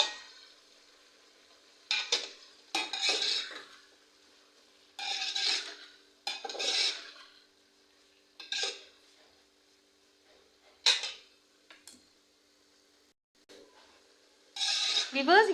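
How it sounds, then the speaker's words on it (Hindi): Tomatoes and onions cooking in a pan for a chicken stew, stirred in intermittent bursts of scraping and sizzling with quiet gaps between, close by, with some talking mixed in. "अब मैं ये टमाटर डाल दे रही हूँ।"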